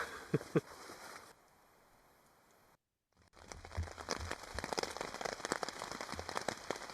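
Rain falling on a Lidl Crivit two-person camping tent: a soft, steady patter that briefly drops out, then returns as a denser, louder drumming of drops on the fabric.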